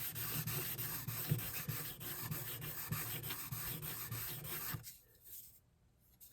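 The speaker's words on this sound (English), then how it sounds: "you put the stone flat like you do a chisel, the back of a chisel. And again, you're gonna just polish the sides like that" Steel blade sides rubbed flat against a sharpening stone, a steady close scraping with repeated strokes that stops abruptly near the end, leaving near silence.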